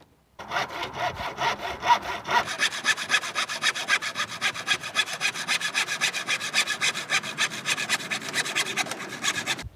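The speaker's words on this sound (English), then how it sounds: "Then we're going to take a handsaw, and then we're going to cut this board about halfway." A handsaw cuts through a wooden board in fast, steady back-and-forth strokes, each rasping pass close and loud in an even rhythm from start to finish, with no talking.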